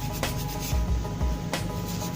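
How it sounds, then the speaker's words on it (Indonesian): Sandpaper rubs back and forth against the brass of a Yamaha Old Vixion motorcycle carburetor in a few short, close scraping strokes, with low thumps between them. "Kita amplas."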